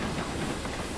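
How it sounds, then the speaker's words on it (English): Model steam locomotive on a layout pulling away, a soft steady hiss with faint rhythmic rail clatter throughout, close and fairly quiet. "watch, engine pulls away, then that one pulls away"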